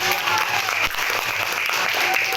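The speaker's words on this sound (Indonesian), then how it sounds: "Tepuk tangan yang meriah." Lively applause from a class after group presentations in a primary school civics lesson, a steady dense wash of many hands clapping together, close and loud.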